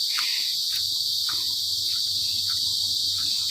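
Crickets chirp in a continuous high, shrill drone at night outside an office, with faint scattered clicks and a low television murmur underneath.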